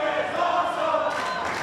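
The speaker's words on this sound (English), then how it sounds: "The crowd showing their appreciation" Wrestling crowd at a CCW cruiserweight title match cheering in appreciation, a dense sustained roar of many voices, loud and close throughout the short burst.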